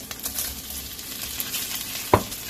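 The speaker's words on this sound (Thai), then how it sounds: "แล้วก็ผัดกุ้ง ให้สุก" Shrimp stir-fried for pineapple fried rice, a close continuous sizzle with stirring scrapes and one sharp clack of a utensil near the end.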